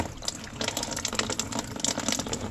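Fluid drains and splashes steadily into a container while a Toyota Corolla Hybrid is serviced at 100K miles, a busy, continuous pouring and spattering with crackly droplet bursts.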